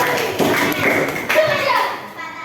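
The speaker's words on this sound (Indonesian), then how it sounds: "Oke, tepuk tangan dulu Pak Azmi dari kelompok saya" In an elementary classroom, children clap for a student from a group, the patter of hands mixing with children's chatter and a few thuds in a lively room.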